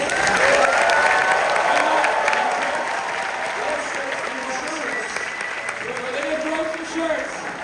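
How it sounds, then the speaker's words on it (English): Audience applause for the cast at a film world premiere Q&A at a festival screening, sustained dense clapping from a large crowd that stays loud throughout with a faint voice underneath. "Everyone, please give them a round of applause."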